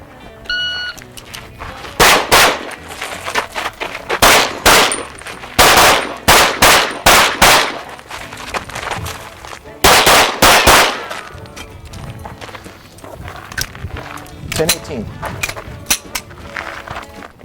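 Gunshots fired during competition shooting practice, loud sharp cracks in quick strings of several rounds, separated by pauses, with a little talk in between.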